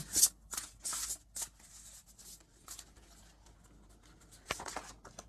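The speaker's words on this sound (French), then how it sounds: "On va reprendre d'autres cartes d'oracle." Oracle cards being shuffled by hand, a few quick papery riffles and flutters in short bursts, close and moderately loud, with quieter gaps and another burst near the end.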